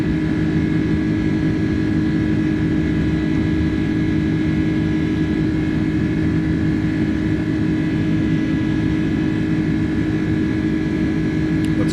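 iniBuilds A310 jet engines at climb power in a flight simulator, a steady, loud, continuous drone with a deep rumble and a constant higher whine, unchanging throughout with no talking over it.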